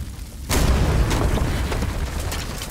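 In the medieval castle-siege video game Stronghold Crusader 2, a cannon shot lands with a sudden heavy boom that rolls into a long, dense rumble of debris and battle noise.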